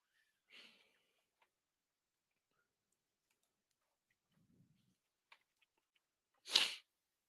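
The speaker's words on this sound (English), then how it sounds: "I'm about to sneeze." One sharp, loud sneeze bursts out near the end after mostly quiet moments broken by a few faint clicks and a short sniff.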